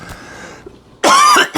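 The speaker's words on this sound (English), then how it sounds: "I have to cough." A woman coughs loudly in a home kitchen while making French toast, one harsh burst followed by a shorter second cough after a brief quiet pause.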